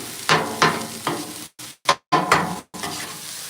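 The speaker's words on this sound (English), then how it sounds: "It's some sort of stir fry." A stir fry sizzles on an outdoor grill at night, with loud bursts of scraping and stirring separated by brief gaps of silence.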